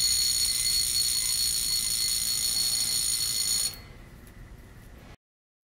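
A restored 1973 Seiko Bell-Matic wristwatch alarm buzzes in a steady, bright, continuous ring for almost four seconds, then cuts off abruptly, leaving faint handling noise before silence.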